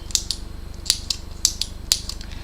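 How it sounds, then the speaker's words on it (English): A decorative pen with a YouTube logo detail is clicked repeatedly, four crisp, close double clicks at a steady pace in a quiet room. "Lovely clicking sound."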